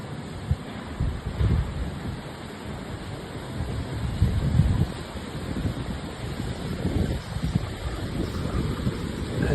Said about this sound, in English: As you can tell, it's windy.